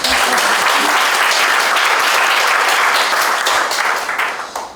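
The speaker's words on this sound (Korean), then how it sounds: "동의하시면 박수 한번 치십시오." An audience at an orthopedic clinic's fifth-anniversary ceremony bursts into loud, dense, sustained applause from many hands, then it thins and fades away at the very end.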